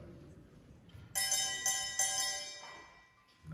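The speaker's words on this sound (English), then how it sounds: "this is what the guataca sounds like" A guataca, a hoe blade struck as a percussion instrument at a school wind ensemble concert, rings out in a few bright metallic strikes with a long shimmering sustain that slowly fades.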